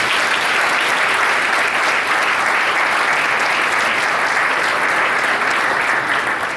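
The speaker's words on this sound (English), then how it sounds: "Can we give our sponsors a huge round of applause?" A large audience at an Interphase 50th anniversary event gives a loud, sustained round of applause for the sponsors, dense and even clapping that fills the room for several seconds without letting up.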